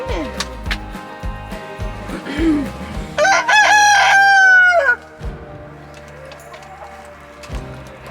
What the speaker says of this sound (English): So those chickens are hungry. They're in there getting their breakfast.